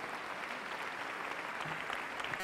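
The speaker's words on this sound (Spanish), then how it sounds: "Un aplauso para el hermano." Applause from a church congregation during a Catholic Mass, steady and sustained clapping from many people that fills the room and stops abruptly.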